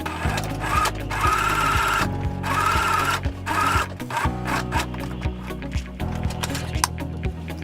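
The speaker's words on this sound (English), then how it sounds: "And now you just run that through the sewing machine" A sewing machine stitches a French seam on fabric for a cosplay garment, running in close loud bursts of rapid mechanical whirring and thumping, stopping and restarting several times, with no talking.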